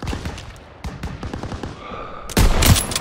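Call of Duty WWII battle gunfire, with scattered single shots and bursts that end in a loud, close volley of fire.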